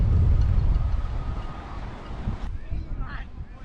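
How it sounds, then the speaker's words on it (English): Strong wind buffets the microphone at Galway harbour, a heavy low rumble that gusts and then eases, with faint background sounds and no clear talk. "It is super windy though."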